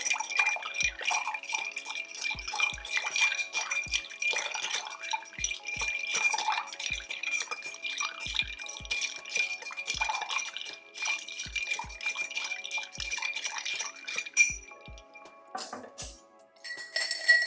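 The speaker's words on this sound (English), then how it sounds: "Go ahead, grab a spoon, and give that a nice stir." A spoon clinks against ice in a glass while stirring an Old Fashioned cocktail, making a steady run of light, close, bright chinks and rattles with a few low knocks, with no talk.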